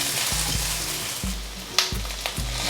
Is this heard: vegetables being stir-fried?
yes